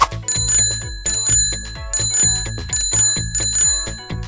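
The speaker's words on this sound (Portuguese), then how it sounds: "Eu ouvi a campainha e um apito." A bicycle bell rings repeatedly in bright, close double trills, about five bursts in a steady rhythm with no other sound.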